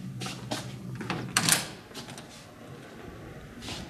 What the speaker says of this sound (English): Did the door just open?